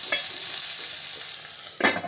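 Cissus quadrangularis (mangaraballi) being sautéed in oil in a pan, a steady soft sizzle with a couple of brief louder stirring scrapes near the start and end.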